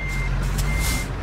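Truck reversing alarm in American Truck Simulator beeping steadily at a high pitch over a low idling engine rumble, with a brief hiss partway through.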